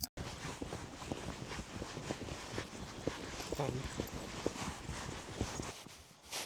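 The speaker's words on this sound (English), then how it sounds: "The horses are going a lot faster" Horses' hooves clip-clop in a steady, brisk rhythm while riding in Kyrgyzstan, with close, even hoofbeats under constant wind and rustle.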